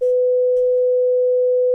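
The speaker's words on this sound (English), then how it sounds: "And now we have a sine wave, right?" A plain sine wave tone generated in SuperCollider holds steady and loud at a single pitch for nearly two seconds, with a brief faint click near the start.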